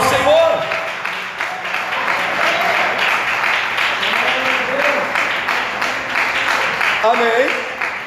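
A church congregation applauds loudly and steadily, dense clapping filling the space throughout, with voices mixed in underneath.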